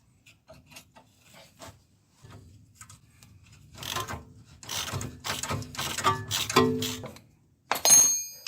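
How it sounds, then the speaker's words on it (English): A torque wrench loosens a nut at the front of a rusty Lexus LS 400: a run of close mechanical ratcheting clicks and clanks, growing louder in uneven bursts, with a sharp metallic burst near the end. "I try to crack it loose from the front by loosening the nut with my torque wrench"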